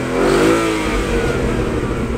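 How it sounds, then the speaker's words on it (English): A Ford Mustang fitted with a loud aftermarket exhaust revs hard, a close, sustained engine roar that swells early and then holds steady throughout. "going to rev the Mustang"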